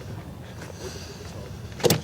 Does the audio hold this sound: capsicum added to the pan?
no